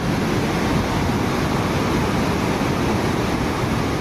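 A flooded river rushes through Rudraprayag in the Uttarakhand mountains after heavy rain, a dense, steady roar of churning water that holds constant and loud throughout with no voices.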